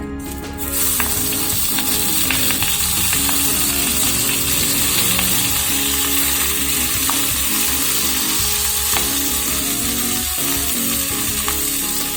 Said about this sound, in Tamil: மணத்தக்காளி கீரை ஒரு கைப்பிடி அளவு, அதை அது கூட போட்டுக்கோங்க.